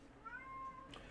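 A single cat meows once, a short rising then level cry, quiet and close with no talk over it.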